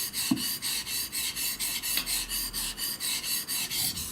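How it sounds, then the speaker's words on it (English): Steady, rhythmic rasping of a Japanese santoku knife stroked back and forth across a Japanese whetstone, close and loud, with even repeated strokes and no talking. "get a whetstone, Japanese whetstone, and learn to sharpen the knife."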